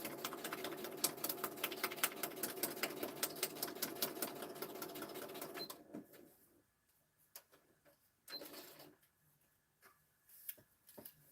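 A sewing machine stitches DIY sparkly embellishments in a fast, even mechanical chatter for several seconds, then stops. A few scattered clicks and handling taps follow in a quieter room.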